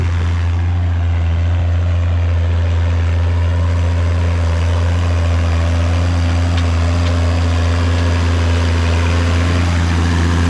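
An orange Allis-Chalmers D19 tractor's six-cylinder engine pulls a plow through a field, a loud, steady low drone with a strong hum running unbroken and close throughout.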